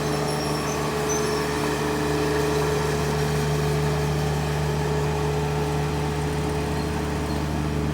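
Tractor used for track maintenance at an indoor RC racing event, its engine idling with a steady low rumble and hum, constant and fairly close, with no talk.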